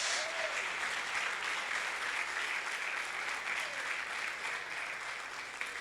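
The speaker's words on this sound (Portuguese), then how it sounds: "Bata palma para Jesus!" A church congregation claps steadily in a continuous, even wash of applause at a fairly low level, sustained for the whole stretch without any break or voices standing out.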